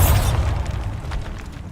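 A Bombarda blasting spell from Hogwarts Legacy detonates in one heavy, close boom that quickly decays into a rumbling, crackling tail of falling debris.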